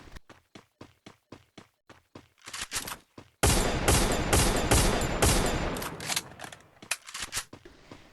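Gunfire in the mobile shooter Free Fire: a run of sharp single shots at a steady rhythm, then a loud sustained burst of rapid automatic fire that thins into scattered shots, close and dominant with no talk.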